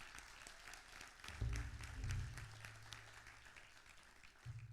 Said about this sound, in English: If you would stand so that we could give you a round of applause.